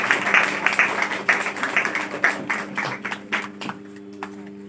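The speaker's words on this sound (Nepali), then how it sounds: "जोडले ताली बजाएर यसलाई धन्यवाद दिन्छ।" A church congregation claps together after a sermon, a dense burst of hand claps that thins into scattered, slower claps before fading out, with a low steady hum underneath.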